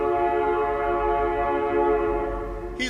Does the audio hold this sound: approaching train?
yes